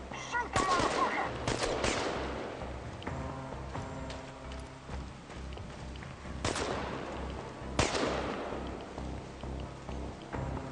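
Bursts of video game gunfire ring out, with sharp shots clustered near the start and two loud cracks later, separated by quieter stretches of background game noise.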